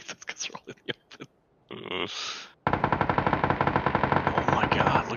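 Rapid automatic gunfire in the PUBG video game on the Haven map, a few scattered shots and bursts followed by a sustained loud stream of fire with a metallic, echoing edge.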